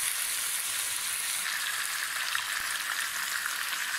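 Ginger garlic paste frying in hot oil, a steady close sizzle with fine crackling that stays even throughout, with no voices.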